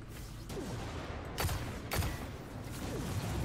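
Gunfire in Destiny 2 on PC, heard as a few sharp shots spaced about half a second apart against a steady bed of game ambience, moderately loud and close, with no talk.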